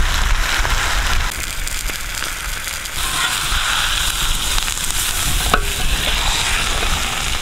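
Green fish frying on a tawa over a village fire, a dense continuous sizzle of hot oil close up, with occasional crackles and scrapes as the fish cooks.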